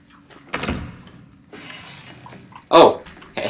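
A door opens in the Resident Evil 7 video game, with a short burst of creaking and scraping followed by a sharp, loud thud, set against low game ambience and brief talk.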